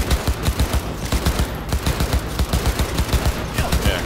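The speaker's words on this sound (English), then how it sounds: "Yeah, because I'm shooting ya." Rapid automatic gunfire rings out in a Cyberpunk 2077 firefight, loud, close and continuous, its shots rattling in a fast, even rhythm across the whole stretch.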